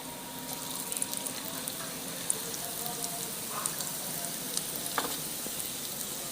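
Fish roe pakoras fry in hot oil, giving a steady soft sizzle with faint crackles and a few small pops, moderately close and without talk.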